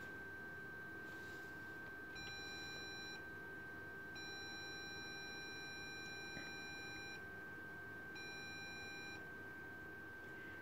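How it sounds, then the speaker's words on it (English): Three separate electronic Morse code beeps from an encoder over a steady background hum: a short tone, a longer one, then another short one, clean and evenly pitched. "I should hear a short beep, then a slightly longer beep, and then another short beep"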